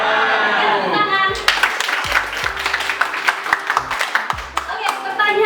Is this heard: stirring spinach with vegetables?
no